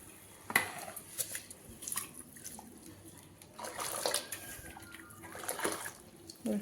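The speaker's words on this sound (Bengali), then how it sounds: "চালটা দিয়ে দিলাম, ভাতটা হোক" Uncooked rice tipped into a pot of boiling water on a gas stove, giving several brief splashy pours and clinks of metal, fairly close, with no talking.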